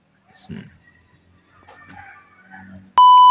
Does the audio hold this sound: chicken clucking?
yes